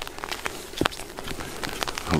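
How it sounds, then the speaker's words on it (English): Steady outdoor rain, a continuous hiss with scattered drops patting nearby surfaces, moderately loud and close, with no voices. "Hope this rain goes off."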